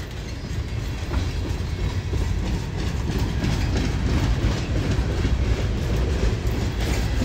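A long mixed-manifest freight train with Conrail boxcars rolls past close by, a steady loud rumble of wheels and rattling cars with faint clickety-clack throughout and no talking.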